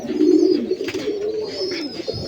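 Caged domestic deshi golla pigeons give a low, throaty coo, close and clear, with softer rolling murmurs continuing over a few seconds.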